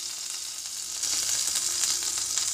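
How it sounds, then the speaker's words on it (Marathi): Pomfret fish fries in a pan with a steady, close hissing sizzle that grows a little louder and denser partway through, with faint crackles and no voices. "आता मी अशाच प्रकारे सर्व फिश फ्राय करून घेते"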